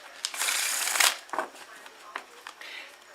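A deck of tarot cards shuffled close to the microphone, a crisp riffling burst followed by a few shorter flicks and card slaps, fairly loud against a quiet room.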